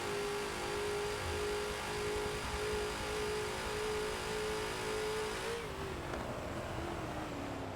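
TNT Ford GT40 race car at Mugello in Forza, its engine roaring loud and steady at high revs throughout, the note holding then shifting slightly as it changes pitch near the end.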